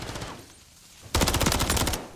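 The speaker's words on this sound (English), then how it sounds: "I got shot in the back." Automatic gunfire in Call of Duty: Modern Warfare III ranked play, a loud, rapid burst of shots lasting about a second after a short quieter stretch with a few fainter shots at the start.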